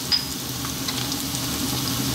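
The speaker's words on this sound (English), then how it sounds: "Now I'm going to add our garlic ginger paste." Garlic ginger paste, a half-and-half mix, hits a hot pan of zucchini over high heat and sizzles loudly with a steady, dense hiss that holds for the whole stretch.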